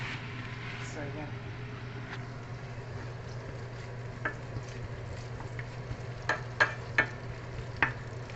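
Onions frying in oil in a pan for a lentil and quinoa dish, a soft steady sizzle with a few clicks of stirring while a person talks.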